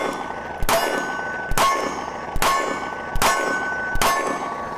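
Five evenly spaced sharp shots from a Taurus G3C compact pistol, each a loud crack followed by a ringing decay, fired at a steady pace with no speech.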